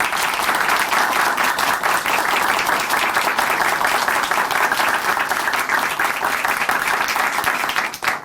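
Sustained audience applause at a Christian broadcast testimony program in a church setting, dense steady clapping lasting several seconds before fading at the end.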